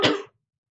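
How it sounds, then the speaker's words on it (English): One short, sharp cough, close and fairly loud, cut off quickly into silence. "I have a cold, so I'm going to cough again"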